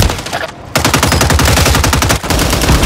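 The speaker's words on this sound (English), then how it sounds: "Oh, I gotta shoot. I'm shooting." Rapid automatic gunfire in a video game rattles loudly and almost continuously, with a brief pause early on and a short break near the end, fired in dense sustained bursts with no talk.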